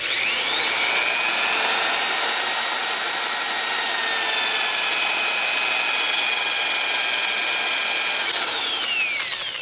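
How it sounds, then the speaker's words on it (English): A power drill spins a reamer bit through a cheap clone carburetor for a Yamaha Moto4 ATV, holding a loud, high, steady whine for almost ten seconds before starting to wind down. No voices are heard. "here we have the, I'm going to call it the reamer bit, and if you plug that right in here, just be careful to keep it centered"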